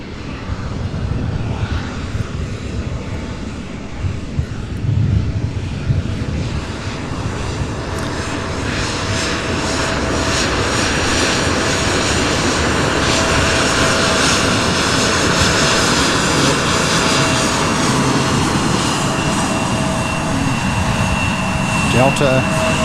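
An MD-11 freighter jet lands at SDF airport, its engine roar building steadily and staying loud and close for over twenty seconds while someone talks over it.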